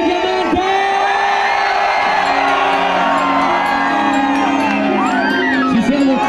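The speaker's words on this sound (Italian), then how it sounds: "Fatemi sentire se ci siamo, l'urlo di diamante!" A dense crowd cheers, whoops and shouts at a night-time sky lantern release in Diamante, Italy, a loud continuous roar of many voices with rising yells throughout.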